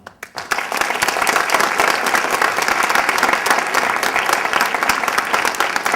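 An audience at an evening children's event breaks into applause. Scattered first claps swell quickly into sustained, full clapping from a sizeable crowd.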